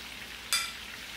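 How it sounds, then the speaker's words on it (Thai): Pork frying with chilli in hot oil over high heat gives a short, sharp burst of sizzle that jumps out over a faint, steady background hiss. "ดูใช้ไฟแรงนะครับ แล้วก็ใช้เวลาทอดที่ไม่นานนะครับ"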